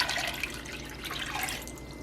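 Five cups of water splash and trickle as they are poured into a pot for black cherry jelly, a soft, close liquid rush that tapers slightly toward the end.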